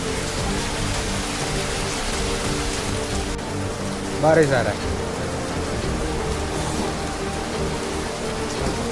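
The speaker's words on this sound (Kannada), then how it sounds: "ಸಡನ್ ಆಗಿ ಫುಲ್ಲು ಮಳೆ ಬರೋದ್ರಿಂದ" Heavy, sudden downpour in Karnataka, a steady dense hiss of rain on surfaces filling the whole scene, with a short spoken phrase and a brief rattle partway through.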